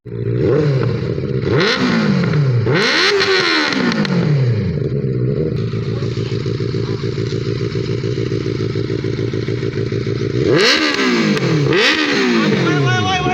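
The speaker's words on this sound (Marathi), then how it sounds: "काय आवाज आहे रे गाडीचा" A 600cc motorcycle fitted with four silencers revs hard and loud close by, with repeated rising and falling throttle blips over a steady roaring idle, a pause of constant engine drone, then two more sharp revs near the end.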